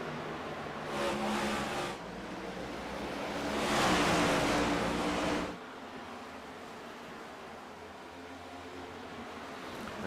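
Race cars running laps at Richmond roar past in distant waves, one engine swelling then another louder pass that cuts off sharply, leaving a low steady hum of cars circling afar.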